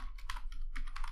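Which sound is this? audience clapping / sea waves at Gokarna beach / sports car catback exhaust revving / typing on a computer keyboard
typing on a computer keyboard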